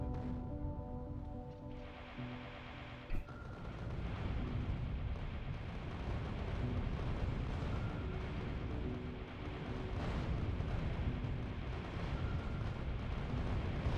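Rocket explosions in the video game Factorio during a multiplayer end-game battle make a dense, continuous rumbling roar with layered booms and crackle, loud and sustained throughout.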